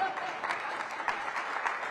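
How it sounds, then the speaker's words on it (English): Brief audience applause for an award recipient at an infrastructure academy ceremony, a short steady patter of clapping with murmuring voices underneath. "we're going to applaud for my friend Matt Broussard."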